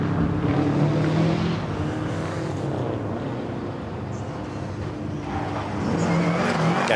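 A rally car speeds through a super special stage at Goodwood SpeedWeek, its engine roaring steadily and close, rising again toward the end as the car accelerates and turns, with no voices over it.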